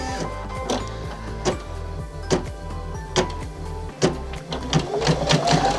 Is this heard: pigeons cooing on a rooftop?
no